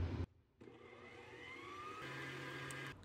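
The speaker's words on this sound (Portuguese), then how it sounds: "Nós vamos bater até encher a tigela da batedeira" A stand mixer beats milk-powder ice cream base in its bowl, a steady whirring motor hum with a rising whine, fairly quiet and alone after a short thump at the start.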